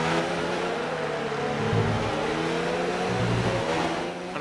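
Honda engine of a Formula 1 car in the video game F1 2019, a sustained high-pitched engine whine with slight rises and falls in pitch as it revs, loud and steady with no talk.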